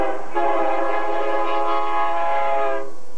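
A train passing through Olathe sounds a loud, sustained multi-tone horn blast lasting nearly three seconds, close and dominant, with the rumble of the train beneath it.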